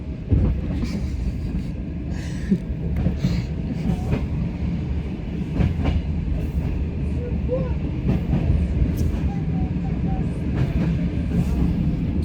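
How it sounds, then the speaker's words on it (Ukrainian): A train bound for Budapest rumbles along the rails with steady clickety-clack from the wheels and cabin noise throughout, heard from inside the carriage. "У нас поїзд до Будапешту."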